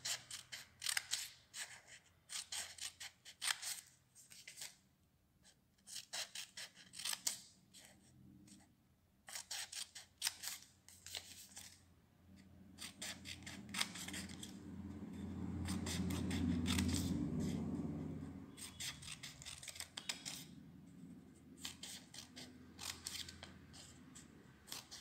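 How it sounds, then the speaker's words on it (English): Scissors snip through paper, cutting it into equal broad strips for a decorative paper lamp, a series of close, crisp cuts in quick bursts with a pause and a softer rustling stretch midway. "Cut it equal strips."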